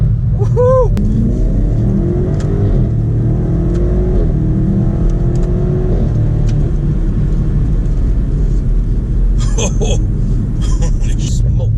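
A BMW M5 Competition accelerates hard in a fast pass, its engine rising in a loud, rumbling climb through several gear changes, heard from inside the car, with a voice calling out over it near the end.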